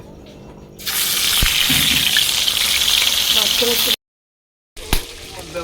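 Pieces of fish fry in oil over a wood-fired stove, a loud steady sizzle starting abruptly after a quiet moment, broken by a few clinks and a brief gap of silence before frying resumes, with voices in the background.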